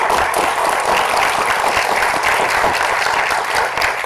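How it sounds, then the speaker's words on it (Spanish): An audience at a human rights panel on the Americas applauds Liliana Velázquez with dense, sustained clapping filling the room, loud and steady throughout. "te pido por favor un aplauso para Liliana Velázquez"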